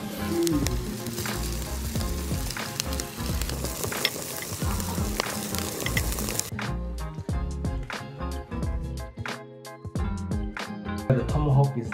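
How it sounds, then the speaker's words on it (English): A tomahawk steak sears on a scorching hot Weber kettle barbecue, a loud, dense, continuous sizzle and crackle with frequent sharp pops throughout. "we're gonna crank up the barbecue and make sure it's scorching hot. That way we can sear it, do the final sear"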